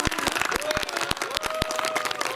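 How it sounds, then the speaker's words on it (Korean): Audience applause at a lecture gathering, scattered individual claps standing out over a dense wash of clapping, with a murmur of voices beneath. "우리 방창님께 박수 부탁드립니다."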